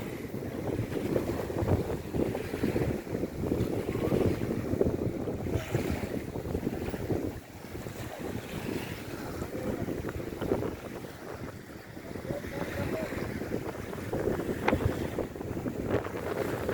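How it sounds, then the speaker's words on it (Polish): Strong wind buffets the microphone in a constant roar on the shore of Puck Bay at Kuźnica, Poland, with water and boat noise underneath, swelling and easing slightly throughout. "Jest straszny wiatr, słuchajcie."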